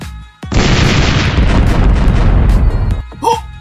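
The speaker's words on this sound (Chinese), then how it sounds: "都城大门瞬间就被轰开了" A loud explosion blasts open a city gate, a sudden boom followed by about two and a half seconds of dense, roaring rumble that cuts off abruptly, with a brief voice right after.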